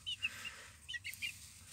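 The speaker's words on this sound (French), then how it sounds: "les 2 poules ici dans le fond, les plus petites, et 3 petits coqs" Hens and young roosters cluck and squawk softly in short bursts, a few quick calls near the start and another cluster a second later, faint and close with no talking.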